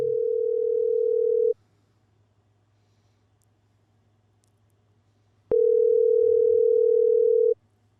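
A steady telephone dial tone sounds in two loud, unbroken bursts of about a second and a half and two seconds, separated by several seconds of near silence with a faint low hum.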